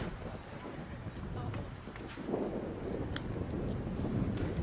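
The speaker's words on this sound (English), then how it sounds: "the wind's kind of going left field to right field, but sometimes it's blowing straight into the batter" Wind blows across an outdoor high school softball field during a game, producing a steady, loud rumbling buffet against the microphone that swells slightly partway through, with faint muffled voices underneath.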